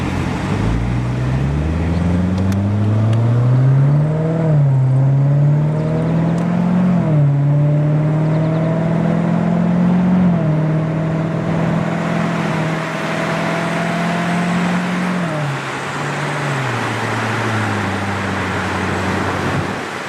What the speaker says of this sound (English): Here's my son, the first time he ever drove a Corvette.